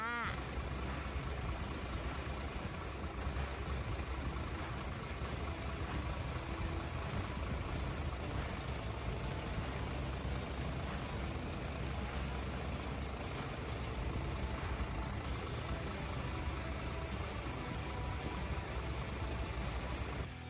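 A steady, low engine idle of a 2005 Isuzu Deca 200-horsepower six-wheel crane truck rumbles on without a break, joined by a faint mechanical vibration and a soft high whine.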